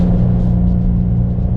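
Steady low engine drone from a 2022 Nissan Frontier PRO-4X towing a trailer at maximum capacity, held at high revs while grade shifting down a steep grade in the Rockies; a constant, close rumble with a strong steady hum and no voices.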